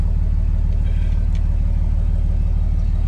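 A Jeep's engine runs steadily with a low, even rumble and a constant throb, close by and loud, with no talk over it.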